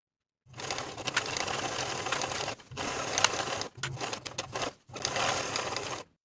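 A sewing machine edge-stitches along the upper inner folds of a pair of jeans hems, running in three steady bursts with short pauses between, close and clear with no talk.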